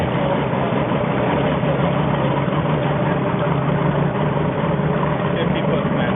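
A motorboat engine runs steadily while the boat leaves a channel, a constant loud low rumble with a dense, unbroken drone.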